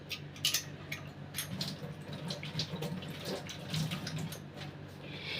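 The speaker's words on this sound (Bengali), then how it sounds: "দাঁড়ান হাতটা ধুই" Tap water runs steadily into a sink as hands are washed after coming back from the market, a continuous close splashing stream with no talk over it.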